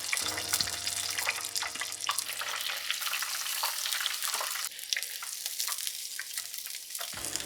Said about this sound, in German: So, das wird schön frittiert.